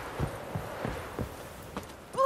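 Horse hooves in the Witcher 3 video game beat out a steady clip-clop of about six distinct, evenly spaced strikes, close and moderately loud, ending with a brief tonal sound.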